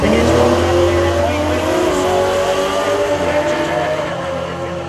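Drag race cars launching side by side in a final at a motorsport park, a dense loud engine roar with rising revs holding steady, with commentary voice mixed in.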